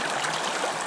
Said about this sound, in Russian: Как говорится, течет Раздольная река